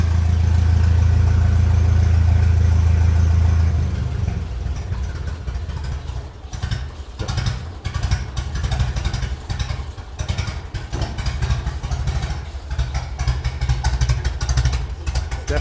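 A 1957 Ferguson 35 TVO tractor engine runs loud and close, a deep steady revving roar that drops to an uneven, misfiring idle with clattering pulses, with occasional voices.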